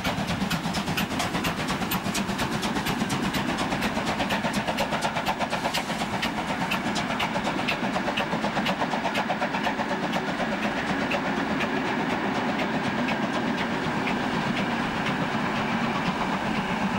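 A class 23 steam locomotive of the German Bundesbahn, converted to light-oil firing, running on rails with a loud, steady rhythmic chuffing and clanking that holds constant and close throughout.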